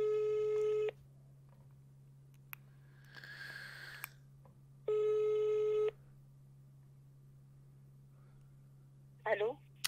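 Phone ringback tones pulse twice with a long gap, loud and steady, while calling a viewer's girlfriend during a live Rainbow Six Siege stream, with a faint hiss and brief rustle between.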